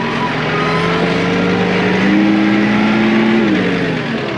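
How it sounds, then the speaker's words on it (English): A small tractor engine runs steadily under load with a loud, continuous drone that rises slightly in pitch partway through, with no voices. "I will say this much, the little tractor does have some power though."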